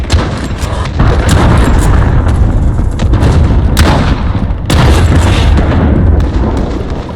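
Heavy explosions and gunfire from a Call of Duty Modern Warfare ground war match, where a cruise missile strike lands as loud rolling booms over continuous battle noise, close and dense, with sharp blasts near the middle and toward the end.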